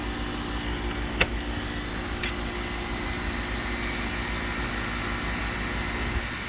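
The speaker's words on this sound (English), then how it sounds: "That's the motor that's been in here with the bearings replaced." An electric ECM motor with newly replaced bearings runs at a steady hum in second stage at 60 hertz, with a sharp click near the start and no speech.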